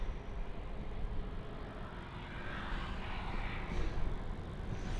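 An airplane at Helsinki Airport gives off a steady, broad engine roar from some distance that swells slightly toward the end, with no voices over it.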